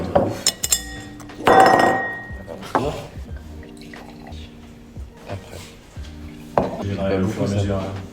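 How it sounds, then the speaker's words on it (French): Pét-nat sparkling wine poured into glasses at a table, with clinks of glassware and dishes and a steady pour under nearby conversation. "je vous sers le pétnat pour démarrer"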